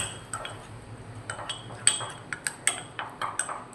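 A spoon stirring a charcoal face mask paste in a bowl, giving a quick series of light clinks and taps against the rim, close and fairly crisp.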